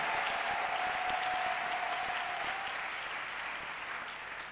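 A congregation claps steadily through a church worship service, dense and continuous applause filling the room, with a held sung or shouted tone underneath in the first half and no clear speech.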